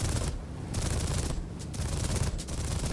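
A Bf 109 E-1 fighter in War Thunder fires its guns in long, dense rattling bursts, loud and close over engine drone, with brief pauses between volleys.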